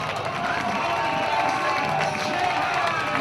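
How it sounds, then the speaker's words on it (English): Speedway crowd roaring at a Birmingham Brummies versus Sheffield meeting as riders come onto the home straight, a steady, distant wash of cheering with faint engine drone mixed in and no gaps. "Just listen to the crowd as they come round onto the home straight."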